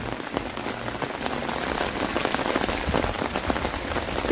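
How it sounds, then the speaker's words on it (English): Heavy rain pours steadily onto surfaces in a traditional hanok village in Jeonju, a dense, even hiss of drops and splatters, close and loud with no voices. "Heavy rain."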